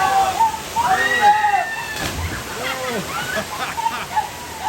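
Padudusan Falls pours steadily in a cold mountain pool, a continuous rushing wash of falling water with some sloshing, heard beneath excited voices calling out and whistling nearby.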